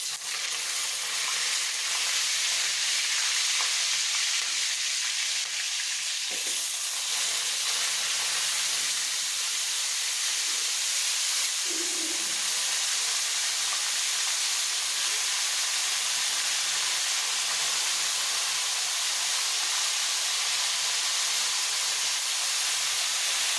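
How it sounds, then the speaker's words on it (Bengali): Potato pieces frying in hot oil in a home kitchen, a steady broadband sizzle and hiss running the whole time with a few faint stirring knocks, close and even, no talking. "তেলটা এখন গরম হয়ে গেছে। আমি এর মধ্যে আলুগুলো দিয়ে দেব।"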